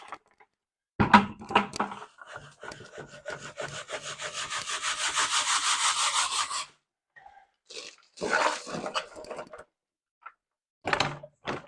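Sand scraping and rasping through a quarter-inch screen while making potting soil, a sustained gritty rubbing that builds for several seconds, then shorter bursts of shaking and scraping close by with brief pauses between.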